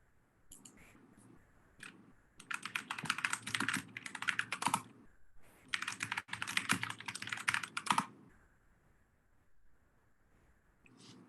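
Typing on a computer keyboard during an online meeting, two long bursts of rapid key clicks separated by a short pause, close and fairly loud with no talking.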